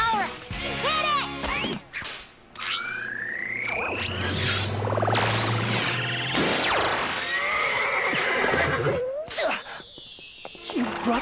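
Loud, shrill whinnies from cartoon horses ring out several times over a busy, dramatic soundtrack with whooshing effects and rumbling, energetic noise throughout.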